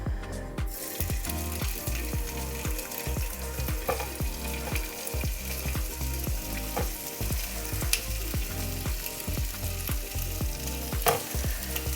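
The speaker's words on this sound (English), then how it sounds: "So chicken is just a frying off, so you're not cooking it all the way through basically." Chicken thigh pieces sizzle and spit steadily as they are fried off in a pan, with rhythmic scraping and stirring clicks running through the loud, constant crackle.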